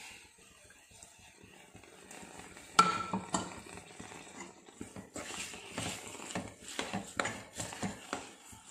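A spoon stirs tempering into groundnut coconut chutney in a pot, giving soft scraping and clinking strokes that turn into a run of sharper taps against the vessel in the second half; quiet and close, with no talk.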